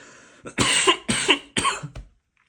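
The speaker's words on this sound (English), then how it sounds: "as soon as I start recording, I need a cough." Three or four harsh coughs in quick succession, close and loud, ending with a short throaty catch before silence.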